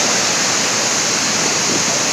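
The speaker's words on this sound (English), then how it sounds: "finally reached the waterfalls" Steady, loud roar of a secret waterfall in the forests of Kalasa, Karnataka, reached after a trek past a natural bridge; broadband rushing water fills the whole clip with no voices.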